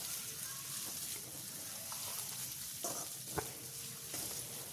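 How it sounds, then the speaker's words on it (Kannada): Onion, green chilli and kasuri methi fry in a pan with a steady, close sizzle and a couple of brief stirring knocks, no voices over it. "ನೀಟಾಗಿ ಫ್ರೈ ಮಾಡ್ಕೊಳ್ಳಿ."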